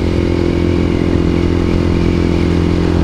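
Motorcycle engine running steadily on an early-season ride after the snow melt, a loud continuous close-up drone with a low rumble and some clatter, no voices.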